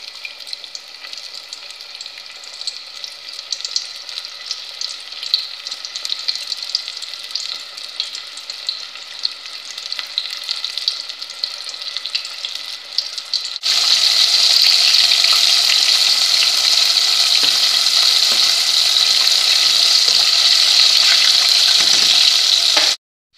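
Breaded chicken breast frying in hot oil, a steady crackling sizzle that suddenly grows louder and hissier about halfway through, then keeps going without any talking.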